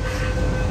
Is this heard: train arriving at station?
yes